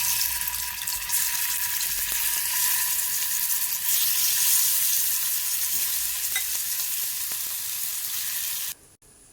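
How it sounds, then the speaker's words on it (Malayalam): Steady, even sizzle of food frying in coconut oil in a pan, close and continuous with faint stirring scrapes, cutting off abruptly at the end. "നമ്മളിത് വെളിച്ചെണ്ണയിലാണ് ഫ്രൈ ചെയ്തെടുക്കുന്നത്."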